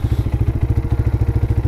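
A motorcycle idles up close, its loose silencer rattling in a rapid, regular low-pitched chugging pulse throughout.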